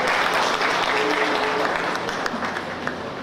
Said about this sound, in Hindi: प्लीज जोरदार तालियों से उनका स्वागत।